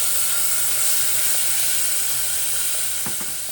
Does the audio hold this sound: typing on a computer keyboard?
no